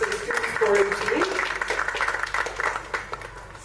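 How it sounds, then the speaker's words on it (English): Short burst of audience applause for a student forum team at a talk in Ludhiana, moderate claps mixed with a voice speaking over them. "round of applause for the Student Forum team"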